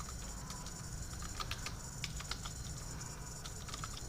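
Computer keyboard typing a MySQL command, a steady run of quick light key clicks with a few louder taps, close and continuous over a low background hum.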